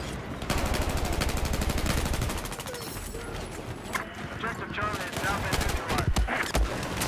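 Rapid automatic gunfire from an M4 rifle in Battlefield 4 on the Hainan map rattles in dense, loud bursts with shorter scattered shots after, while a player talks over the shooting.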